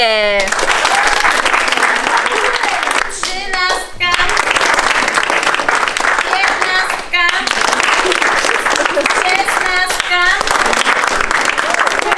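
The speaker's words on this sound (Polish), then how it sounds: "Dziewczyny, które się dostały i teraz po każdej proszę o gromkie brawa." Loud, dense applause at a cheerleader casting for selected girls, continuous clapping with brief dips and a few short voices breaking through.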